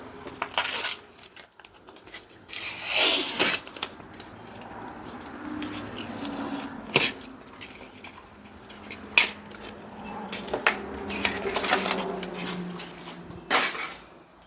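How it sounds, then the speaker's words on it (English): A wrapped package, a vintage axe head, is unwrapped close by, giving irregular bursts of crinkling and rustling paper with quieter pauses between them. "talking over the wrapping sound"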